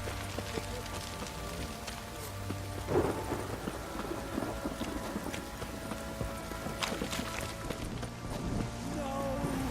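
Heavy rain pours steadily with rumbling thunder and scattered clatters in The Witcher 3, a dense stormy wash at moderate volume.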